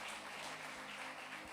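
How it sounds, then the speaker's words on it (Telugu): Church audience applauding at a prayer meeting, a continuous even patter of many hands clapping, moderately loud and steady throughout the short stretch without speech. "గట్టిగా చప్పట్లు కొడదామా?"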